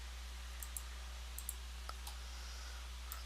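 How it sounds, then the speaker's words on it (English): Computer mouse buttons being right-clicked while working in JMP statistics software, several small, crisp, faint clicks spaced irregularly over a steady low electrical hum. "so I'm going to right click on the title."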